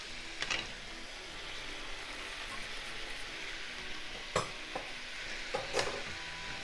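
Bean sprouts stir-fried with browned pork in a pan, a steady soft sizzle running throughout with a few sharp scraping clinks of a utensil against the pan near the end.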